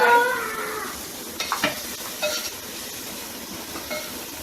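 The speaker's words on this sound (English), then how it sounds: "now I'm sauteing the mushrooms" Mushrooms sauté in butter and olive oil in a pan, making a steady soft hiss with a few brief clinks and scrapes from a utensil.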